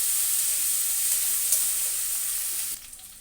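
Chopped ginger frying with browned onions in a pan, a steady bright sizzle holding close and loud before dropping away near the end.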